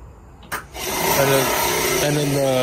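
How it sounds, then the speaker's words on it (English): A blade sharpening machine starts with a click, then the blade spins up into a steady whirring hum that keeps running loud and close. "and then the blade will start rotating"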